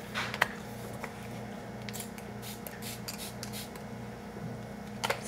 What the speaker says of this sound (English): Spray all over, it smells good.